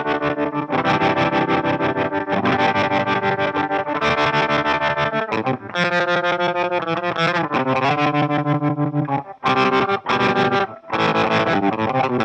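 Electric guitar through an Electro-Harmonix Nano Pulsar variable-shape stereo tremolo pedal, a loud, steady stream of chords and notes that swells and chops in level, with brief gaps near the end.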